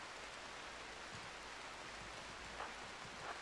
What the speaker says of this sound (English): It's raining out here too